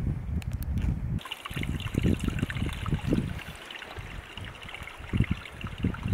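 A small trickle of water at a rocky gorge waterfall, a steady watery babble with low splashy gurgles running throughout, close by and moderately loud, with no talking.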